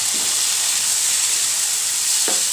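Street-cart style Hakka noodles sizzle in a hot pan as soy sauce is added and mixed in. A constant bright hiss carries a couple of faint stirring knocks.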